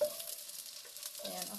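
Chili goes into a pan of eggplant frying in oil, giving a soft, continuous sizzle with light stirring scrapes, fairly quiet and close.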